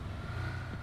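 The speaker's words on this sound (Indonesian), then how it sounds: "Ada suara mobil." Car engine in PUBG Mobile, a steady low drone with a faint revving edge, moderately loud and continuous for under a second, no talk.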